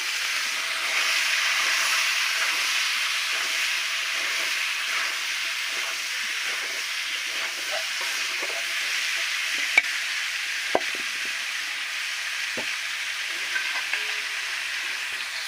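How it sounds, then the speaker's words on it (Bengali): Pumpkin and potato pieces frying in a pan, a continuous soft sizzle and hiss with a few sharp clicks from stirring partway through, and no talking. "কুমড়ো একটু ভাজা ভাজা হোক"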